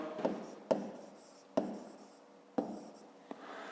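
A pen scratches letters into a notebook during a fifth-grade geometry exercise, with soft rubbing strokes broken by four distinct taps or stroke starts, quiet and close.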